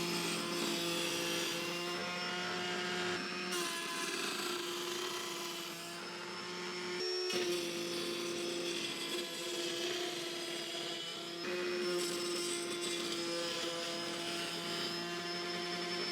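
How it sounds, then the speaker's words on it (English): A router table makes a shallow pass through wood for a chopstick jig. The motor gives a steady, droning whine with a rasping cutting texture, briefly dipping near the middle before resuming, with no talking. "So keep raising up your router table about 1/8 inch every time."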